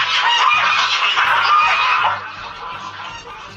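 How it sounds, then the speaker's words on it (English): A gaggle of geese honking loudly and close together, a dense overlapping chorus of harsh honks that fades somewhat toward the end. "it's a gaggle of geese"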